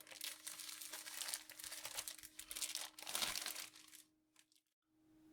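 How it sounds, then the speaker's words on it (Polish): Plastic packaging of a My Little Pony magazine being torn open and unwrapped, a close, busy run of crinkling and crackling for about four seconds before it stops. "Zabierzmy się za rozpakowanie tego czasopisma."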